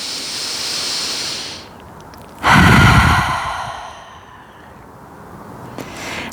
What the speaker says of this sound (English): Let's take one more big breath here.